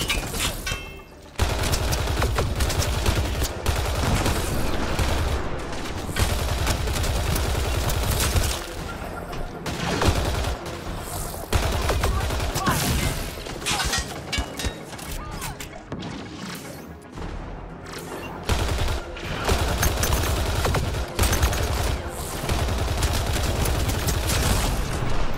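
Rapid, loud gunfire from a favored weapon in Mass Effect Andromeda, long near-continuous automatic bursts close up with brief breaks between volleys and occasional heavy impacts.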